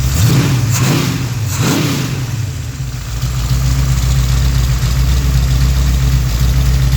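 Pontiac 428 V8 with three two-barrel carburetors, running on pump gas, barks through two quick snappy throttle blips before settling into a loud, steady, rumbling idle, close up and with no one talking.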